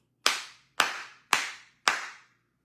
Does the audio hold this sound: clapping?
yes